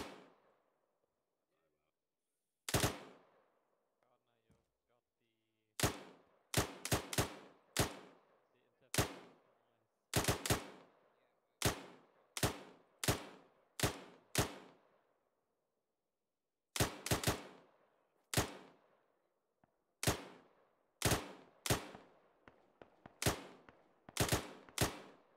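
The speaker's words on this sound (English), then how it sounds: "Continue the rapid fire." Rapid bursts of gunfire from a machine gun during a military exercise, loud and close, with sharp cracks in uneven clusters and short pauses between volleys after an early lull.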